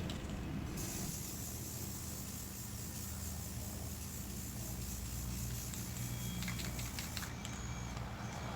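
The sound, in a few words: spray paint from aerosol can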